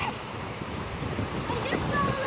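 Surf washing onto a long sandy beach with clear water, a steady broadband wash mixed with wind noise on the microphone, while people talk over it.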